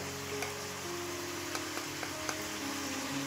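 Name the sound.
spices added to frying shrimp for pumpkin curry, sizzling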